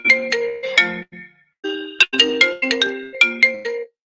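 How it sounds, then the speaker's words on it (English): A phone ringtone plays a bright, melodic electronic chime phrase twice, loud and close, with a short pause between the repeats and no voices. "You're on your computer and your phone rings."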